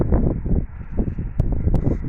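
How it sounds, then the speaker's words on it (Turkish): Gusty wind rumbles against the microphone in uneven low bursts, with a couple of brief sharp clicks, outdoors beside a Kangal dog. "Burada da çok rüzgar var"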